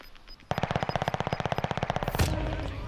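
Rapid automatic gunfire in a video game, a steady burst of about twenty evenly spaced shots lasting around two seconds, loud and close, ending in a brief sharp blast.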